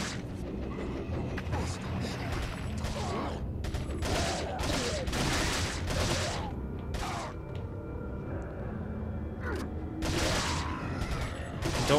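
TMP submachine gun fire in Resident Evil 4 comes in bursts of rapid crackling shots over game background noise, loud and up front, with a voice talking over part of it.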